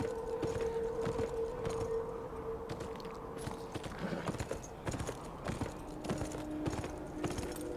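Horse hooves clip-clopping in the video game Beyond Two Souls, a steady walking rhythm of hoofbeats over a low ambient drone, moderately close and without talk.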